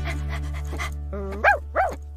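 A dog in a Brazilian radio advertisement gives two short, close barks about a third of a second apart over a steady electrical hum, after a brief stretch of quieter broadcast sound.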